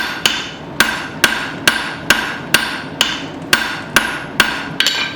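A hammer strikes metal on an anvil while forging a split cross, eleven sharp ringing blows in an even rhythm, each decaying briefly before the next, with no talk.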